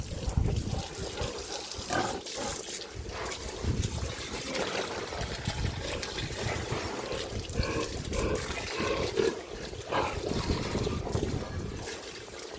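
Pigs on a farm in hot weather, grunting and snuffling up close amid wet, sloshing noises, a busy continuous mix with occasional louder bursts.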